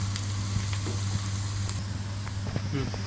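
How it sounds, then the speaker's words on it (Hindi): Onions sizzle and fry in hot oil while being browned toward golden for an egg biryani, a steady dense crackle with occasional stirring clinks, close and continuous. "प्याज़ों को इनको हल्का सा ब्राउन करना है।"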